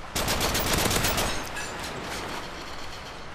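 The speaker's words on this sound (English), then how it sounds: "I like firing warning shots just to get people's attention" Warning gunshots in the game Nobunaga's Ambition: Iron Triangle, a dense rattling volley of rapid firearm shots that starts loud and fades into a lingering rumble.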